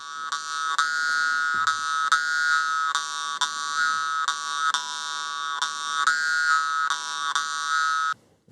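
Continuous twangy, buzzing drone of a khomus jaw harp from Yakutia with a rhythmic pulsing pattern, played close and loud for several seconds before stopping.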